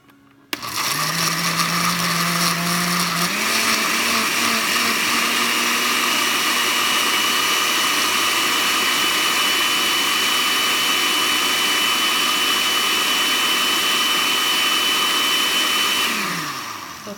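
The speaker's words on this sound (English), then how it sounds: "Now we're gonna blend it, and we're gonna throw our cilantro in there too." A kitchen blender runs loud and steady for about sixteen seconds, blending green salsa with cilantro, its whine shifting pitch once early on before winding down at the end.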